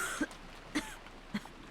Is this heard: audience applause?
no